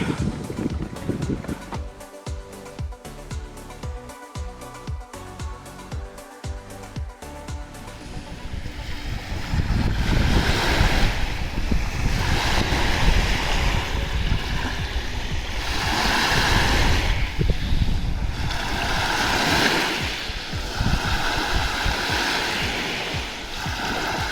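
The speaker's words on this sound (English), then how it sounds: "We found the beach." Ocean waves roll in and break on a cold beach near a campsite, building into loud, steady surf with repeated crashing swells and wind noise against the microphone, after a brief stretch of clicking and handling sounds at the start.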